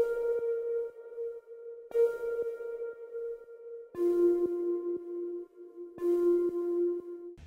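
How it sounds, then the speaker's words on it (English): Buzzy, distorted synth notes pulse in short repeating phrases, shifting pitch midway, with clicky percussive accents and no voices. "Okay, first up, I've got these distorted bloopy sounds."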